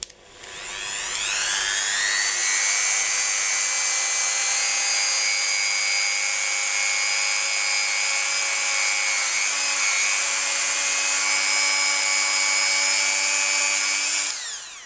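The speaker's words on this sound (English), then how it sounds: "I use a Dremel 3000 with a buffing wheel to buff" A Dremel 3000 rotary tool with a buffing wheel buffs a piece of polymer clay, a loud, continuous high whine that spins up over the first two seconds and holds steady until it stops.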